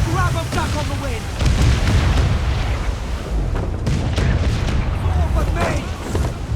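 Ship cannons firing in Assassin's Creed 4: Black Flag during a naval battle, with heavy booms and crackling blasts rolling on nearly nonstop, loud and close, while voices shout over the din.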